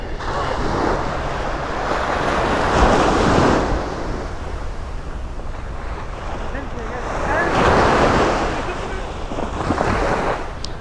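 Sea waves on a beach shore roll in with a continuous loud wash, swelling into two fuller crashes several seconds apart, heard alone with no voices.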